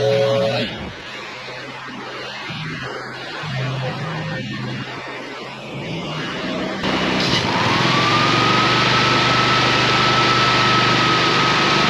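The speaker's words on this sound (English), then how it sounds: "we're gonna get the big blower in here" A big leaf blower runs steadily outdoors, a loud broad engine roar that swells near the end with a rising whine, while people talk intermittently under it.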